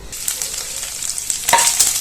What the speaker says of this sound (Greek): το μπέικον σε ένα αντικολλητικό τηγανάκι και θα το σοτάρουμε για 2-3 λεπτά να πάρει λίγο χρώμα